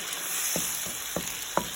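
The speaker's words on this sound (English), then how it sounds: "So now the gravy is boiling" Gravy boils and sizzles in a pan on the stove before kofte go in, giving a steady bright frying hiss with a few soft bubbling pops scattered through it, close and continuous, with no talk.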